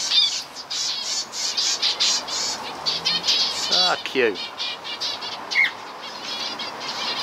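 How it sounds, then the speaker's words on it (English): Small finches in an aviary chirp in rapid, high twittering bursts while wings flutter and flap nearby; a voice briefly speaks at the start. "Ah, little finches, I think."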